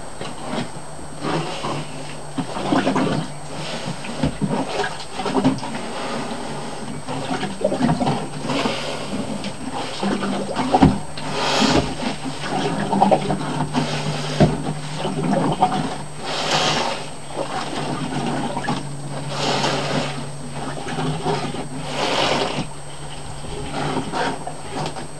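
A simple homemade deep-water hand dredge, a suction tube with a friction-fit joint, draws in water. The result is a steady churning, gurgling wash with irregular surges and knocks, close by and continuous, with no voices.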